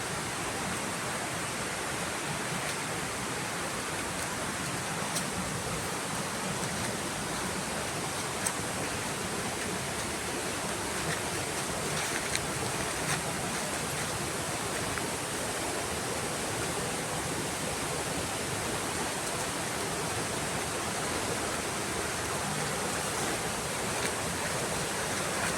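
Buruwisan Falls roars as a steady, dense wash of falling water, loud and constant throughout with no voices over it.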